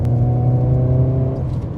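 A Mercedes 190E 2.5 16V engine pulls hard under acceleration, a loud, steady close-up drone with a strong low rumble and layered harmonics, on a slightly damp road with no talking.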